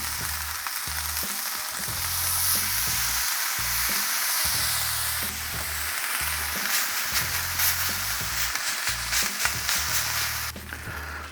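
A bacon double cheese smash burger hisses and sizzles loudly on a hot cooking surface just after flipping, a steady close frying roar with occasional scraping, alone without voices.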